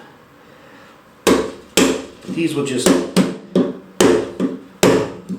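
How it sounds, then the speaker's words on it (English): Mallet striking a cheap Harbor Freight chisel to make relief cuts in wood, seven or eight sharp, loud knocks in an uneven rhythm, close by, with someone talking briefly at the start. "Now normally in carpentry work you wouldn't be using a mallet like this"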